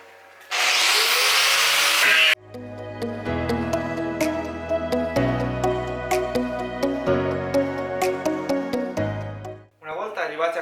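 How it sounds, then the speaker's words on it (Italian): An angle grinder strips paint from a steel oil drum in one loud, steady two-second burst, then cuts off and gives way to background music. "adesso prendiamo il nostro flessibile e gli diamo una bella ripulita"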